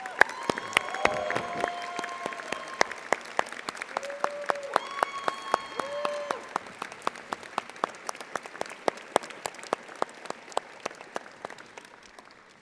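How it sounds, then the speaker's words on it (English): A large crowd applauds and cheers at a law school commencement ceremony: sustained clapping with sharp individual claps standing out close by, whistles and shouts rising over it early on, then fading as the applause tapers. "join me in a round of applause to thank Professor Tonner and congratulate her on her eve of her retirement"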